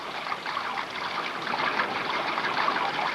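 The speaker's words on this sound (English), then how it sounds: "the distant murmur of fast-moving water and the gentle chunking of machinery" Fast-moving water rushing near a mill, a steady broadband murmur that holds at an even level throughout, with no voices over it.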